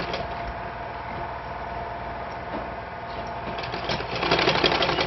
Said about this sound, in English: I'm going to keep sewing with my 1/2 inch like I did with the other side of the bustier line